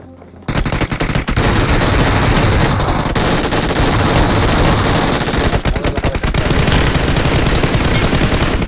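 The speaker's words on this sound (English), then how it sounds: "I surprise them with my overspeed MG3" An MG3 machine gun fires in PUBG Mobile, a loud, sustained burst of rapid automatic gunfire that starts abruptly and runs unbroken for several seconds, close and dense.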